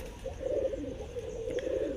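A round-flying pigeon coos close by, a low, soft, continuous burble that runs through the whole moment with no voices.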